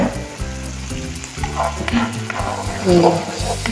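Egg frying with tomato in a pan: a loud, steady sizzle with stirring and scraping throughout, over a low tonal background that sounds like music.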